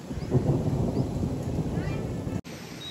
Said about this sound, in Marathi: इकडे भरपूर पाऊस चालू आहे